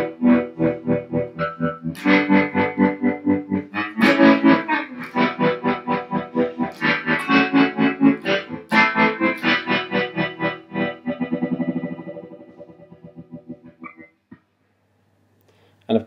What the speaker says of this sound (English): the single coil mode is that it allows you to have just a tremolo effect, so you can choose between phaser and tremolo